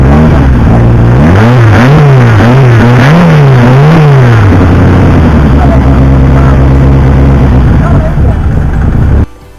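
A small car's engine revs loud and close in rising and falling swoops, then drops back to a steady rumbling idle before cutting off abruptly at the end.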